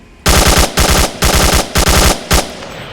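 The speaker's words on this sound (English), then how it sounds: "I can't shoot while I'm talking because I know that the sound is loud." Loud bursts of rapid automatic gunfire in a VR shooter game, five short volleys in quick succession with brief gaps between them, close and punchy.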